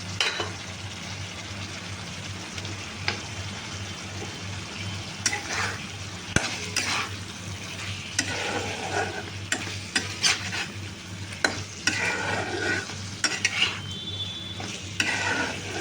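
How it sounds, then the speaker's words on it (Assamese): Ripe jackfruit dila tipped into a pan of cooked spices, with a steady, close frying sizzle broken by scattered clatters and scrapes and no voices. "এতিয়া মই কঁঠালৰ ডিলাটো মই ঢালি দিম"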